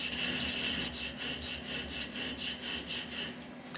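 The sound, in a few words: small oiled stone honing a metal radius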